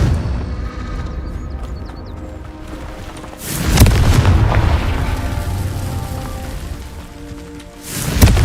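Confringo blasting spell explosions in Hogwarts Legacy: two heavy, booming blasts, the first after a few seconds and the second near the end, each with a rumbling low tail over a steady background of game ambience.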